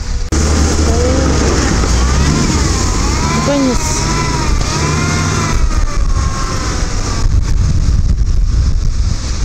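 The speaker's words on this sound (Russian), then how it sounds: "Сейчас наш автомобиль в колею встанет." A car engine labours and revs while the vehicle is stuck in a deep, knee-deep muddy rut off-road, with rising and falling engine tones, splashing and a voice speaking briefly near the end.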